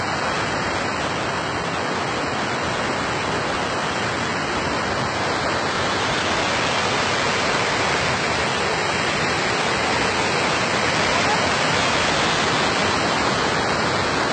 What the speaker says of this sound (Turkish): İşte şelale.